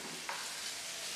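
Okra curry (bhindi masala) is scraped and stirred in a pot, with a brief scrape standing out early over a continuous soft sizzling hiss.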